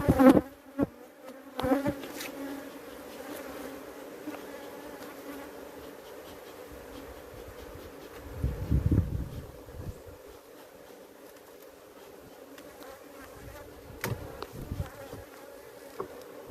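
Honeybees buzz steadily over a hive frame being handled, a close, continuous hum with a few louder low swells as bees pass near.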